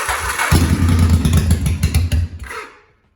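A 1985 Honda Shadow 750 motorcycle, freshly repaired, cranks and catches, its engine chugging loudly and unevenly for about two seconds before dying away to silence.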